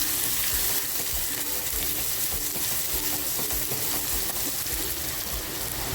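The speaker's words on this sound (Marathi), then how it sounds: "त्याच्यामध्ये तेल छान गरम झाले कांदा टाकते" Chopped onion fries in hot oil in a pan for an okra masala, giving a loud, steady sizzle with crackling bursts throughout and no talking.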